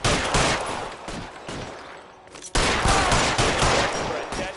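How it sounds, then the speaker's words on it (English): Covering gunfire in a horror video game, dense bursts of rapid shots in two loud volleys separated by a brief lull. "Lay down some covering fire"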